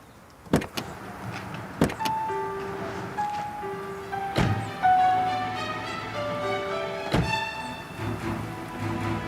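Sounds from inside a car: several sharp door-like thunks and clicks spread across the stretch, with motor whines like power windows and a low hum underneath.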